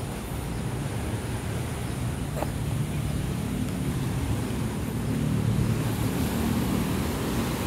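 Continuous surf and breaking waves wash along the beach at Monumen Balikpapan, a steady broad rush with a slight swell near the end, with no talking.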